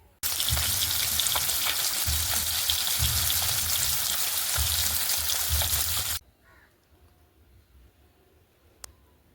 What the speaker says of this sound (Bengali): কড়াইতে ভেজে আর রেখে দেবো